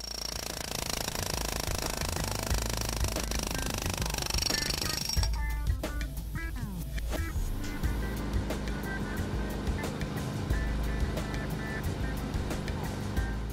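A pneumatic concrete breaker hammer pounds continuously into material, a dense rapid hammering with heavy low thumps, and a voice speaks faintly underneath.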